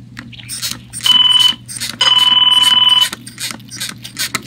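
A telephone rings loudly in two long electronic bursts with short gaps, close and clear over a steady low hum and faint background noise in a room during an ear wax removal session.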